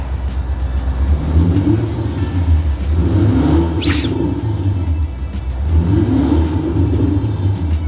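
A BMW M8 engine rumbles at idle with deep, steady exhaust burble and a couple of mild swells in revs, loud and close, no talking.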